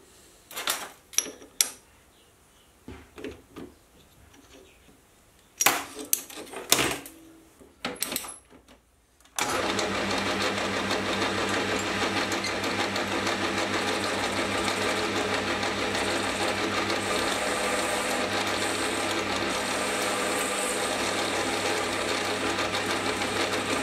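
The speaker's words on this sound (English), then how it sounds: "I need to get it in the lathe and clean up the workpiece." Metal lathe machining a mild steel workpiece for a die holder: a few sharp clanks and handling knocks at first, then a steady, loud continuous cutting whine and hum that runs on unbroken to the end.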